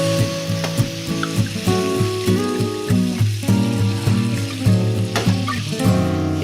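White wine and marsala bubbling and sizzling in a hot pan used to sear steak, forming a pan sauce, with loud steady frying hiss and clinks of a utensil stirring against the pan.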